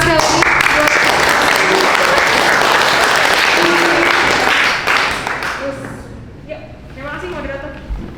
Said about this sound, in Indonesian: Tepuk tangan sekali lagi buat